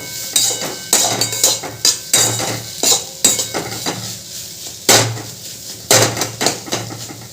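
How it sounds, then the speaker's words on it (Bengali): Spices and chat masala get mixed in a bowl with a spoon, giving a series of sharp, close clinks and scrapes in an irregular rhythm, loud and with no voices. "এবার সব কিছু ভালো করে মিশিয়ে দেবো"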